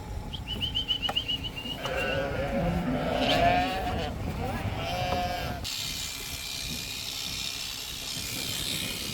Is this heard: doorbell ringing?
no